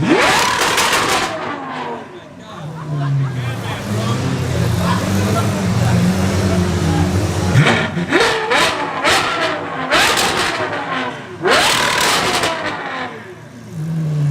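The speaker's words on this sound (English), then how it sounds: "They're holding their ears because the car was so loud." A Porsche GT3 revs loudly in bursts, sharp roaring blips with a rumbling idle between them, while people talk and exclaim around it.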